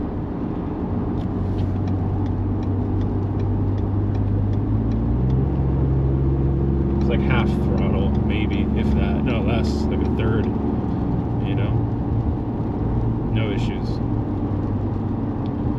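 A Ford Raptor pickup towing a trailer accelerates to highway speed while merging, with a steady, loud engine drone and road rumble that shifts upward as it speeds up. Someone talks over parts of it.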